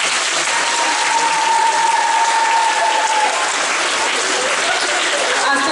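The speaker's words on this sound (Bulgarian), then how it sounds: "Аплодисменти за тях!" Audience applause fills a Christmas concert hall at a foreign-language high school in Vidin, a steady, loud wash of clapping that holds evenly from start to finish.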